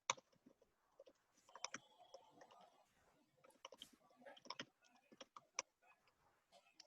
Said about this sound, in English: let me type something right now.